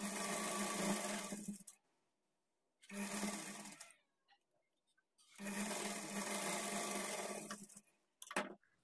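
A sewing machine stitches blouse fabric at a quarter-inch margin in three steady runs, each buzzing for about two seconds and separated by short pauses, with a brief final burst.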